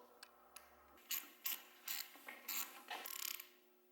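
A ratchet tool tightens the last bolt on a stunt bike's rear hand brake caliper, with a few faint clicks and then a series of short close ratcheting bursts.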